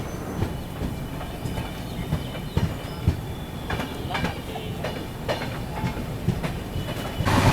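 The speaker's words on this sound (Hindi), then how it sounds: "अभी अपनी ट्रेन निकल रही है किशनगंज रेलवे स्टेशन से।" The 12423 Dibrugarh Rajdhani Express pulling out of Kishanganj railway station, heard from inside a 3AC coach: steady rhythmic wheel clatter and rattling with occasional clunks, faint voices in the background.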